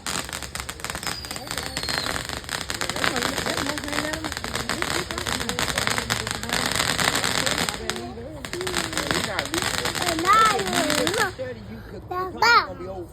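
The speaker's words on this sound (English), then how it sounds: "I gotta get a good angle of these fireworks" Fireworks and firecrackers popping outdoors on a holiday, crackling bursts running steadily throughout with children's voices and talk layered over them.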